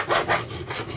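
A metal file is drawn over the frets of a thrift store bass guitar to crown them, making a few close, rhythmic rasping strokes, each a short scraping rub.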